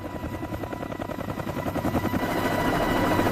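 A large heavy-lift American helicopter lifts into a hover and moves into forward flight, its rotor thumping in a steady, dense chop that grows louder and fuller toward the end.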